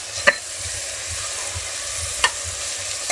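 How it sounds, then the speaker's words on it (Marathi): Onion and tomato fry gently in a pan with a soft, steady sizzle, broken by a couple of sharp scraping clicks as a spoon stirs them. "तेव्हाच मी याच्यामध्ये टोमॅटो घालून घेते, म्हणजे कांदा टोमॅटो दोन्ही एकसाथ व्यवस्थित"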